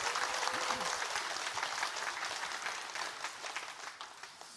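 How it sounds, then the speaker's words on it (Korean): A church congregation at a Sunday worship service claps in encouragement for its young adults, a full, busy round of applause that starts strong with a brief tone underneath, then gradually thins and fades. "우리 귀한 우리 청년들 위해서 우리 격려의 박수 한번 하도록 하겠습니다."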